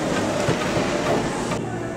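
A Kintetsu express train pulls into Yamato-Saidaiji station, a steady loud rumble with rail hiss and faint clatter that drops slightly near the end; no talk over it.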